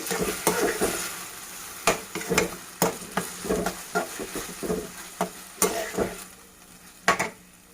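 A spatula scrapes and clanks through veg fried rice sauced with garlic chili sauce and ketchup in a sizzling pan, with irregular stirring strokes over a low fry and no talking.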